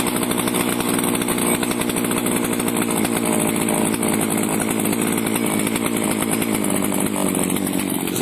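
Petrol engine of a Husqvarna 235R brush cutter running loud and steady close by, with a continuous buzzing drone whose pitch eases slightly lower as the revs are turned down; no voices.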